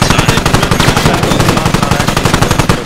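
Rapid automatic gunfire in a video game, fired at an enemy radio in a TIGR vehicle, with loud, dense bursts going on without a break and no talk over them.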